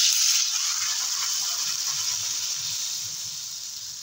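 Broth poured into a hot pan of taro and tilapia sautéed with ginger, salt and turmeric sets off a loud, bright hiss of bubbling that gradually fades over a few seconds.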